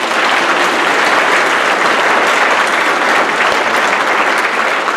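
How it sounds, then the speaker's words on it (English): Loud, dense applause at a Republican Party of Arkansas state committee meeting, a continuous roar of many people clapping at once, holding steady and close for the full length. "Let's give her a round of applause."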